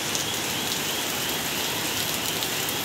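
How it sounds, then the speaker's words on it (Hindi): Heavy rain pours steadily and loudly, a dense unbroken hiss close by with no voices. "बहुत तेज़ बारिश हो रही है।"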